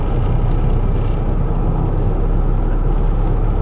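A twin turbo Ford F150 truck in four-wheel drive high hauls hard, a loud continuous engine and road roar heard from inside the cab with no break.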